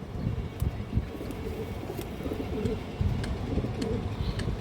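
Domestic pigeons of fancy colored breeds cooing at a pigeon market stall, low repeated coos rising and falling over steady background noise, with no talking.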